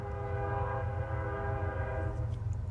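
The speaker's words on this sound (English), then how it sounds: "The sound of train is so cozy." Passing train with a sustained, rich horn-like drone of stacked harmonic tones over a low rumble, steady and fairly loud for the whole stretch, fading slightly at the end.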